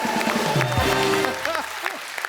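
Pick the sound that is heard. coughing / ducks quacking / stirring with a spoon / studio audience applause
studio audience applause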